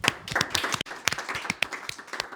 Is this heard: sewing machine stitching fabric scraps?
no